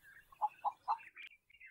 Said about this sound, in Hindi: चिड़ियों की चहक थी,